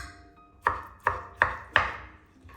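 Knife chopping through pumpkin on a board for a filo pastry pie, four sharp, evenly spaced chops ringing out close and clear with brief decays and no talk.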